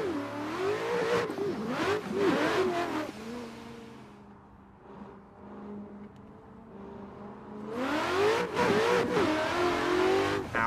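A Ford Mustang drift car in a racing game revs hard and loud, its engine note climbing and falling in quick surges, easing to a quieter idle mid-stretch before revving aggressively again.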